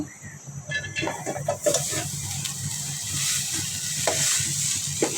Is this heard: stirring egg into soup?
yes